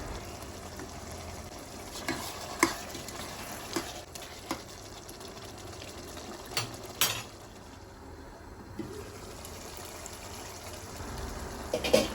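Mutton stirred with pepper powder in a pan makes a continuous soft sizzle with scattered scraping and knocking strokes from a spoon, close but fairly quiet, with no voices.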